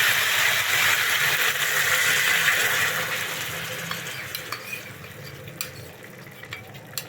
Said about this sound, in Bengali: এই মশলাটিকে দিয়ে এবার আমি এটাকে ভালোভাবে কষিয়ে নেব।